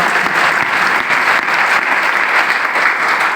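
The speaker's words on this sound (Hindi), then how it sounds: "ताली जोरदार बजा दीजिए" Loud, sustained audience applause fills a meeting hall, a dense steady patter of many hands clapping together without pause, with no talk breaking through.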